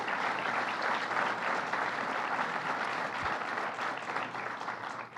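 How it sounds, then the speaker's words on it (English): Audience applause at a public event marking the completion of a transit hub, a steady dense patter of many hands clapping at moderate loudness through the whole stretch. "Let's give him a round of applause."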